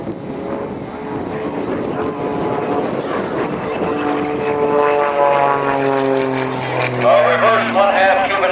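A propeller aerobatic airplane flying a square loop at the 2008 Temple airshow, its engine droning and shifting pitch as it climbs and turns, loud and steady, while an announcer talks over it.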